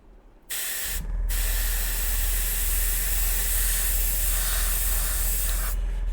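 Airbrush spraying paint onto Warhammer 40,000 Grey Knights miniatures: a loud, close, continuous hiss running for about five seconds after a brief start, with a low compressor hum underneath and no talking.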